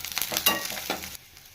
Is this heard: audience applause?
no